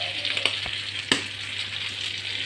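Colored bell peppers, soft from the freezer, frying and being stirred in a pan: a continuous oily sizzle with a couple of sharp scraping clinks from the spoon, no voices.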